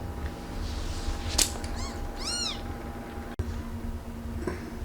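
A couple of short meows from a stray cat, one rising and falling, over a steady low background hum, with a sharp click near the end.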